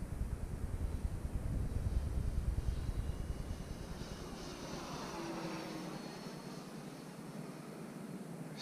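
An FMS A6M Zero 1400mm RC model plane, flying after a run-in with a fence, gives a distant, steady engine drone outdoors. Gusts of wind rush across the microphone, and the drone fades slightly as the plane climbs.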